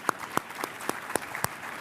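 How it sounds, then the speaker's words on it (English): A handful of sharp, separate hand claps ring out one after another in a thin, scattered burst as the audience applauds a business conference panel on a stage. "Let's give them a round of applause."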